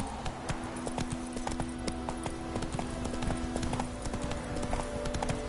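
Horse hooves clip-clop at a steady walking rhythm in a PS4 video game, with a low game soundtrack drone underneath and no talking.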